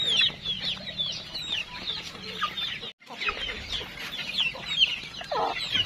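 Several chickens cluck and murmur close by in a steady busy chatter while eating corn bran feed, with a brief break in the middle.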